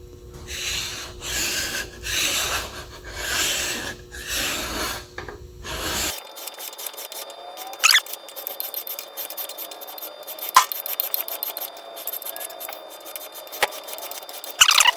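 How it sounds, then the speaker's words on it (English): A large flat file is draw-filed along a metal cross slide from a G0602-type lathe, rhythmic rasping strokes at first, then quieter scattered scrapes and clicks, close up with no speech. "I think I'll just take a flat file and I'll do some draw filing"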